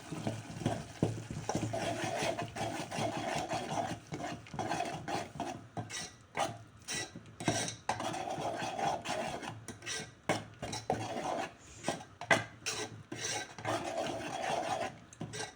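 Masala with coriander powder and chili powder being stirred and fried in a pan for pithiki pappu curry, steady scraping and rasping strokes of a spoon against the pan, close and continuous, with no talk.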